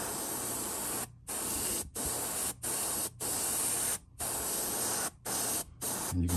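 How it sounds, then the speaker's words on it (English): An airbrush sprays iridescent yellow paint onto a custom sunfish fishing lure in a series of steady hissing bursts, each lasting under a second to a second and a half, separated by short silences. "that iridescent yellow is really airbrush friendly"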